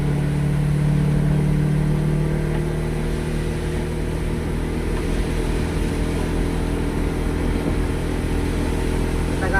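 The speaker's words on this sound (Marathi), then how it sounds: "आता गाडीने पण आपला स्पीड पकडला आहे." A car engine drones steadily on a straight stretch of the Tamhini Ghat road near Pune, a strong low hum that shifts after a couple of seconds into a broader, rising mid-range roar as the vehicle gathers speed.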